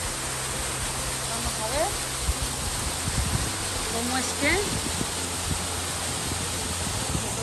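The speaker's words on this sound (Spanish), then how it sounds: "aquí es el final de la cascada" Waterfall at the end of its drop on the Ellison Creek trail near Payson, a steady broadband roar of falling water close by, with someone speaking over it.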